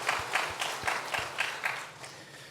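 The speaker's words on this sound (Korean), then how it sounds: "하나님께 영광의 박수 올려드리겠습니다." Rhythmic clapping from a church congregation during Sunday worship, steady unison claps with a faint thud on each beat that fade toward the end, no voices.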